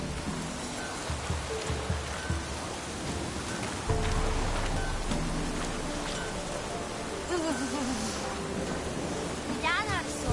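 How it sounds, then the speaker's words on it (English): Steady rain falls in the Witcher 3 video game world, a continuous hiss under game music and scattered effects, with brief voices around it. "Looks like rain."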